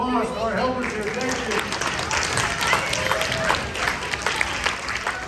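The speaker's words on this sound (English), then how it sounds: "Let's give a round of applause to our helpers here." Audience applauding helpers at a school science night show, a burst of dense clapping with a voice speaking briefly at the start.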